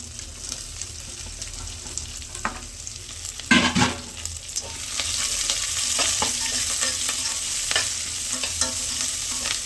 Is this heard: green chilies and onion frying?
yes